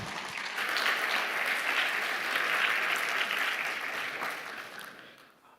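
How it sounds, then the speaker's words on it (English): A conference audience gives a big round of applause as a speaker comes up to present, a full, even wash of clapping that holds steady and then fades away at the end. "Santosh Yadav with a huge round of applause."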